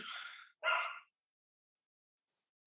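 A dog barks twice in another room of a house during a healing session. The two short, muffled barks are somewhat distant and are followed by near silence.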